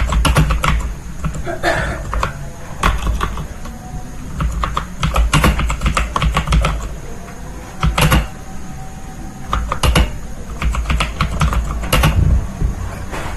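Steady typing on a computer keyboard, close and continuous, with irregular clusters of crisp key taps and occasional louder strokes over a faint background hum.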